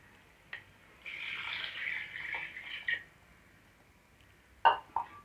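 Water is poured from a glass into basmati rice for chicken dum biryani, with a pouring stream lasting about two seconds followed by a couple of sharp splashes and clinks. It sounds close and fairly quiet.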